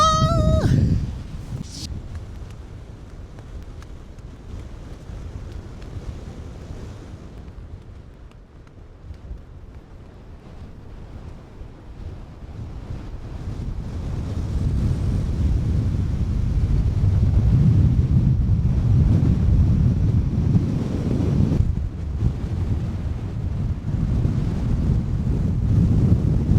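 Strong wind roars across a Lake District mountain, buffeting the microphone in loud, continuous gusts that ease briefly and then build even stronger toward the end.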